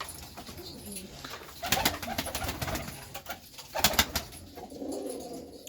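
Pigeons at a backyard loft give soft, low coos, with two sharp bursts of wing flapping and scattered bird sounds close by.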